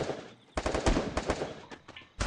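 Gunfire from the Free Fire battle royale game: bursts of rapid automatic shots, starting after a short quiet gap, then a few separate volleys, with one last burst at the end.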